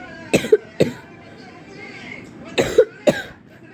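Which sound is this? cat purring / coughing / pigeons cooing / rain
coughing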